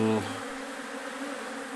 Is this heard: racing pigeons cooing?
no